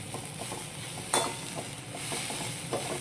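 Pulihora mixture with salt, turmeric and asafoetida stirred in a pan, a continuous close sizzle with soft scraping strokes and one brighter clink, no voices.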